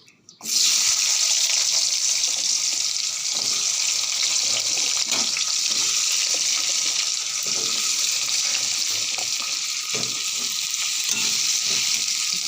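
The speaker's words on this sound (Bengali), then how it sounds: "এই যে আলুগুলো ভেজে নেব" Potatoes fry in a pan with a steady, close, continuous sizzle and hiss that starts abruptly and holds level throughout, with no talking.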